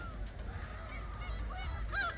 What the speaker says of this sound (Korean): 갈매기도 많고.